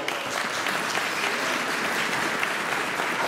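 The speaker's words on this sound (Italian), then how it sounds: "vi faccio un applauso." Audience applause at a living nativity scene event, a steady wash of many hands clapping, even and fairly full, with no talk over it.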